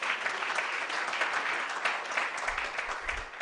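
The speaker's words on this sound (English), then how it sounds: "Can we clap for him?" Indoor audience at an expo event claps steadily for a few seconds, a continuous moderate wash of many hands, somewhat distant, with a low thump near the end.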